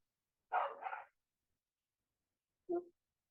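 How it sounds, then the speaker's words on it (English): A couple of distant dog barks, a doubled bark followed by a single one after a pause, faint against otherwise quiet surroundings. "Dogs barking outside."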